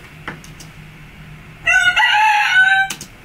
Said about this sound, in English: I inserted some chicken sounds.